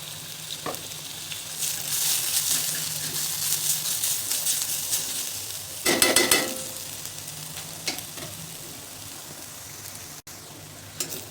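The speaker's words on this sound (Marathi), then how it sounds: "थोडंसं तेल घालायचं आलं लसूण पेस्ट परतण्यासाठी" Soft, continuous sizzling of ginger garlic paste sautéing in a little oil in a kadai, with scraping stirs and a louder burst of crackle partway through; no talking.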